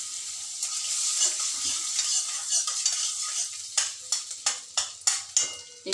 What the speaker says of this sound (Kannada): ಈಗ ಇದಕ್ಕೆ ಈ ಸೈಡ್ ಕಟ್ ಮಾಡಿ ಇಟ್ಕೊಂಡಿದ್ನಲ್ಲ ಅದನ್ನು ಹಾಕ್ತಾ ಇದ್ದೀನಿ